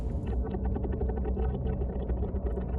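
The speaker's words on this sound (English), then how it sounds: "That is the sound of one of those little things on us" In the video game Subnautica, a leech-like creature clings to the player's submarine and makes a low, throbbing rumble pulsing in rapid bursts, heard loud and continuous inside the vessel with no speech.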